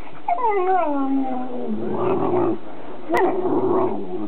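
A small dog lets out a whiny, descending growl followed by rough grumbling snarls, close up, with a brief click partway through.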